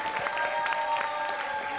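Continuous crowd clapping at a Ganeshotsava concert evening, an even, fairly dense patter of many hands that holds steady from start to finish with a faint tonal hum beneath.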